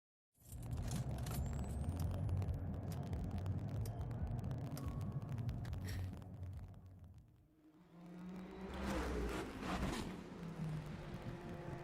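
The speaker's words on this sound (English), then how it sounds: "it's like completely black screen, but you hear like the car sounds and all that stuff in the background" Car sounds from the racing game Forza Horizon 4 play in the background as a continuous rumbling engine whir, fairly faint, dipping briefly before swelling again.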